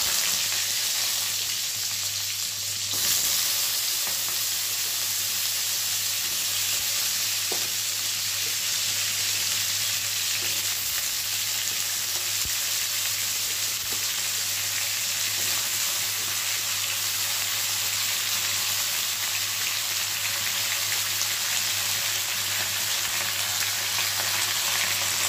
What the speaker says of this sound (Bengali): তারপরে ভালো করে নেড়ে এটাকে হালকা ভাজা করে নেব